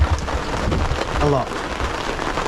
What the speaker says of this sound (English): Ah, it's starting to rain